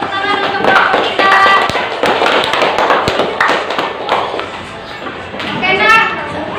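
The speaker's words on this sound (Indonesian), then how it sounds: "Yuk, tepuk tangan untuk kelompok kita." A school class in Indonesia applauds a student group, with a quick burst of scattered hand claps and taps from nearby, mixed with children's chatter and voices throughout.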